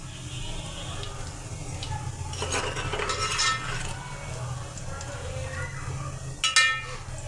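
Aloo kofta frying in hot oil in a home kitchen, a steady low sizzle with scattered clinks and stirring scrapes of a utensil against the pan, close and continuous under faint background noise.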